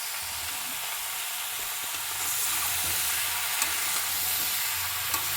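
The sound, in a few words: fish and bottle gourd frying in pan with green chilli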